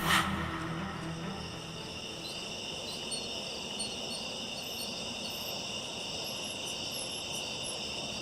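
Steady, continuous cricket chirping fills the night air, a dense high trill with no pauses, moderately close and unbroken throughout.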